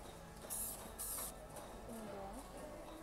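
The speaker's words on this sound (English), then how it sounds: "She's spraying in the shop." Paint being sprayed in a workshop, two loud hissing bursts near the start over a busy, noisy room background, with people talking.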